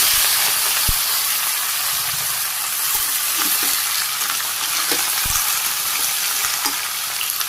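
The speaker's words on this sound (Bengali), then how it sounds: "তেল গরম হয়ে গেছে আমি মেথি আর জিরে দিয়ে দিলাম একসাথে সবজিগুলো দিয়ে দিই" Vegetables frying in hot oil with fenugreek and cumin seeds in a Bangladeshi village kitchen, a steady loud sizzle and hiss throughout with a few sharp utensil knocks against the pan.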